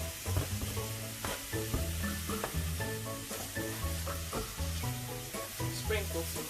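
Mushrooms frying in melted butter in a pan give a steady, moderate sizzle with occasional stirring clicks, under continuous background music.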